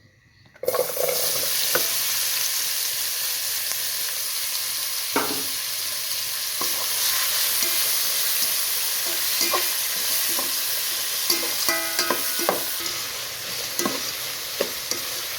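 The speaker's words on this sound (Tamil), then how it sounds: "இப்போ வெங்காயத்தை போட்டு நல்லா மாநிறமாக வர்றதுக்கு வதக்குவோம்" Onions fry for a Sri Lankan home-style biryani, a steady loud sizzle filling the pan with scattered clinks and scrapes of stirring throughout, no voices.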